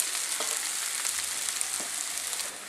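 Beef and onions sauté in a pan for Kerala beef roast, giving a dense, close hiss of frying that holds steady and eases slightly at the end.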